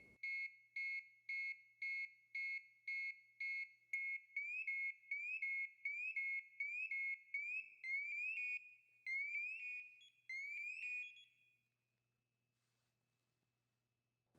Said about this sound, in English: leave the ICM to run through all 4 levels of alarm